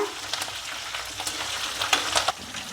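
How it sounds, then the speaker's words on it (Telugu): Tempering (tadka) of lentils, chilies and curry leaves frying in a pan makes a continuous close crackling sizzle, with a few louder spits near the end and nobody talking. "ఇప్పుడు ఈ తాలింపు మొత్తాన్ని ఫ్రై చేసుకోవాలి మంచిగా"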